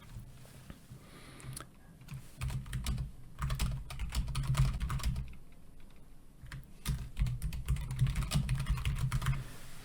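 Steady typing on a computer keyboard while entering a comment, with quick clusters of close keystrokes and brief pauses between bursts.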